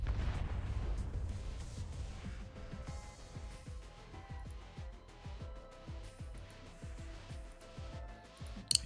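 Detonation in the Arknights video game: a faint, dull rumbling blast fading into a long stretch of repeated low booms and rolling echoes, with a small crackle at the very end.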